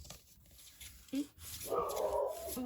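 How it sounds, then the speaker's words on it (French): A dog whimpers and gives a short bark indoors, faint and close, with a brief yip followed by a longer whining cry over quiet room noise. "Vous entendez mon chien, ma fifille."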